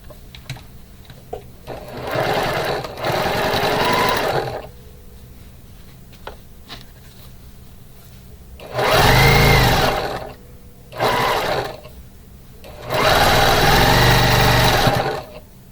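A home sewing machine stitches the final seam of a project in several separate runs, each a loud steady whir that starts and stops, with quiet pauses between bursts.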